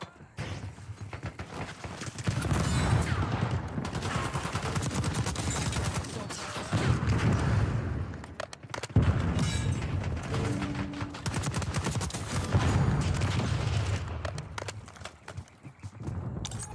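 Marvel Rivals match with dense, sustained gunfire and repeated blasts, including a frag grenade explosion, continuous and loud across the whole stretch while faint in-game voice callouts sit underneath.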